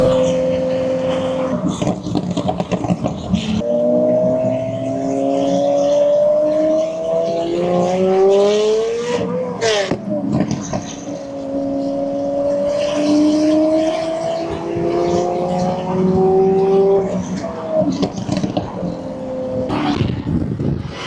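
Lamborghini and other supercars at a supercar rally, engines revving and accelerating with rising and falling tones, loud and nearby, with brief gaps and road noise, no talk.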